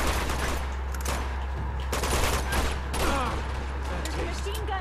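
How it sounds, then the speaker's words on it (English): Machine gun fire in Uncharted 2: Among Thieves, rapid bursts of gunfire crackling in repeated volleys amid shouting and talk during a mountain monastery firefight. "There's a machine gun over there."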